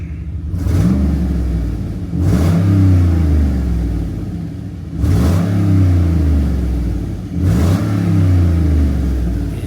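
A 6.2-litre LS V8 pulled from a wrecked Cadillac idles with a deep rumble and is revved four times in succession, each blip swelling loud and close before falling back to idle.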